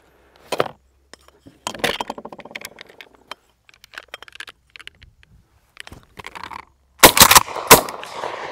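A Mossberg 500 .410 shotgun fires at hand-thrown clay targets outdoors: sharp, isolated blasts with quiet gaps and small clinks between them, then two loud shots close together near the end.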